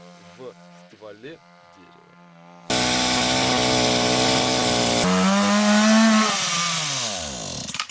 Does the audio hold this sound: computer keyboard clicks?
no